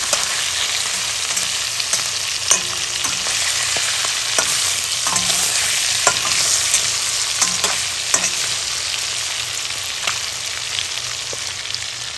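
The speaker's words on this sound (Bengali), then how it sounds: "মাছের মাথাটা একটু কড়া করে ভেজে নিলে ভালো হয়" A fish head fries in hot oil with a loud, continuous sizzle, broken by occasional knocks and scrapes of a utensil against the pan.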